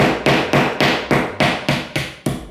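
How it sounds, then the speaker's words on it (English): A hammer taps a plastic plasterboard wall fixing into a hole in plasterboard, giving nine sharp, evenly spaced knocks about a quarter second apart, close and fairly loud, with no talking. "Then you just tap this plasterboard fixing in with a hammer."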